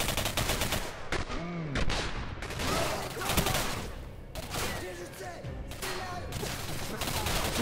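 A Gatling gun fires in a video game in rapid, dense bursts of loud, close gunfire that continue throughout, with voices talking over the shooting.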